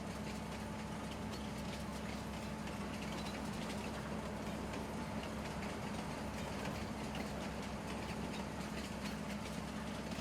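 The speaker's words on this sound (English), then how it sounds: "Then this train just loops around." A train runs through the farm map in Farming Simulator 19, a steady rumbling engine drone with faint rhythmic rail clatter that carries evenly throughout, with no voices.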